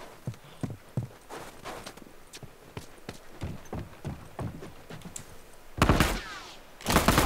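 Rapid hoofbeats of a galloping horse in The Last of Us online clatter in an uneven rhythm, with occasional louder bursts of noise near the end.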